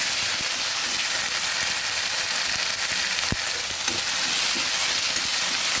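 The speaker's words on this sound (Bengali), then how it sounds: "পেঁয়াজ রসুন আদা সমস্ত বাটা মশলাগুলো ভেজে নিচ্ছি।" Paste of onion, garlic and ginger fries in hot oil for a Bengali katla fish-head muri ghonto, a steady dense sizzle throughout with one sharp stir or clank near the middle, with no talking.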